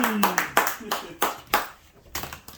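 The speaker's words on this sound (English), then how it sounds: "please give a big round of applause for my boy, Ishabod Gray!" A few separate hand claps ring out on a talk show, sparse and uneven, with a voice talking over them.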